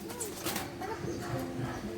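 A pigeon coos softly and repeatedly at close range over faint background noise.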